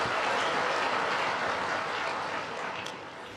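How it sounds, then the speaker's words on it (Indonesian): Dense applause from a large crowd fills the space, a steady wash of clapping that gradually fades toward the end. "tepuk tangan untuk berita baik boleh"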